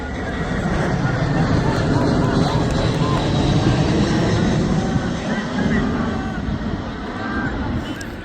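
An airplane passes low overhead on approach to Glasgow Airport, heard from a football ground in Clydebank. It makes a loud, sustained, broad roar that swells and then slowly eases.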